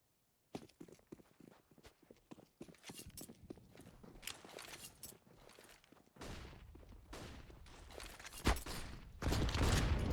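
Counter-Strike gunfire on Dust2 as a player sprays through smoke for a double kill, sharp clustered shots and bursts over footstep-like clatter, faint at first and growing louder and denser toward the end.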